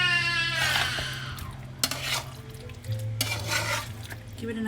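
Garam masala is stirred into spinach chicken in a cooking pot. A spoon scrapes and knocks against the pot in a few separate stirs over a soft, close sizzle.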